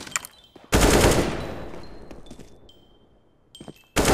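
A loud burst of rapid gunfire in the video game Counter-Strike: Global Offensive, trailing off, then another sharp burst at the end, with small electronic chimes between.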